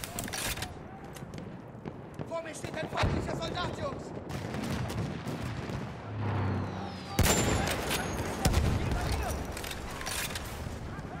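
Tank video game combat with scattered gunshots and heavier booming blasts, irregular and mid-distance, mixed with mechanical clatter and a voice talking over parts.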